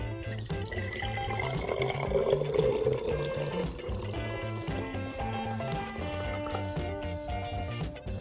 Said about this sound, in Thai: ขั้นแรกเติมน้ำใส่ในขวดครับ